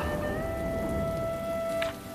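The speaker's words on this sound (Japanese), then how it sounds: "雨が降ってるのよね" Steady rain falls in the Atelier Lydie and Suelle video game, a continuous even hiss of drops alongside faint sustained tones, with no voices.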